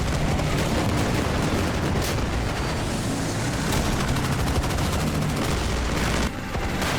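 Airstrikes pound the right flank in the Armored Brigade II war game, a dense, loud barrage of explosions and rattling gunfire rolling on without pause before cutting out briefly near the end.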